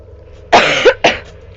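A girl gives two quick, sharp coughs close to the microphone, the first with a brief throaty follow-up, then silence.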